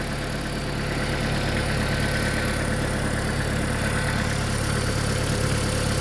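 Toyota Prius Alpha engine, 201,000 km, idling steadily while its oil system is flushed with cleaning chemicals during decarbonization work, a continuous close mechanical hum with faint ticking and no voices.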